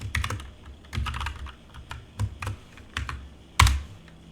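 Rapid keystrokes clatter on a computer keyboard in uneven bursts, close and clear, with one louder key strike near the end and no talking.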